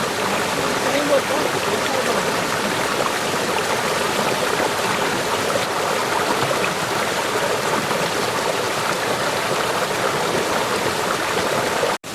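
A stream rushes and a waterfall pours in Guryong valley near Wonju, a loud, steady broadband roar of water close by and unchanging throughout, ending in an abrupt cut.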